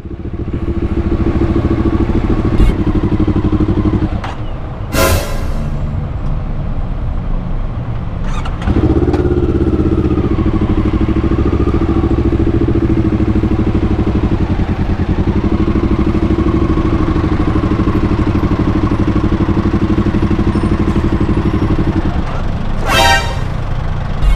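An NK400 motorcycle with a faulty clutch runs at a steady idle in stuck traffic, its low engine rumble continuous and close, with a few sharp car horn blasts and clatter from surrounding vehicles.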